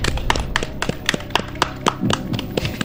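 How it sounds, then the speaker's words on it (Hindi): Quick clapping from a small group of people in an online Sunday school quiz show, a steady patter of claps lasting a few seconds, heard on its own. "एक बार जोरदार तालियां।"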